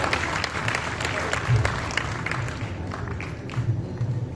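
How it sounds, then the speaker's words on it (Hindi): A live comedy show audience gives sustained applause as comedian Sunil Pal is welcomed, steady crowd clapping with some voices and low rumbling underneath. "आपकी जोरदार तालियां भाई सुनील पाल"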